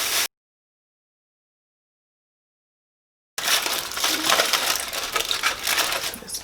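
Broken-up epoxy chunks peeled off a tumbler after soaking in acetone, heard as dense, close crackling and crunching that starts abruptly after a brief silent gap and continues steadily.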